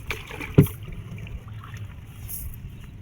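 A wooden boat is rowed through water in a grassy channel, giving a single soft splash of an oar stroke followed by faint lapping and light wind noise.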